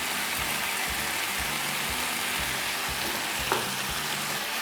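Green chillies and capsicum sizzle steadily in a hot pan, with soft stirring scrapes over a constant bed of frying crackle. A single brief knock comes near the end.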